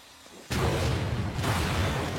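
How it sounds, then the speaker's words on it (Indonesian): An explosion bursts in suddenly out of near silence, a loud broadband blast that keeps roaring and rumbling with a second surge of debris-like noise rather than fading quickly. "akhirnya boom, terjadi ledakan"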